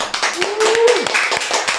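A podcast audience claps for a guest speaker, with distinct individual claps landing in an irregular, close rhythm, mixed with a brief rising whistle or vocal cheer.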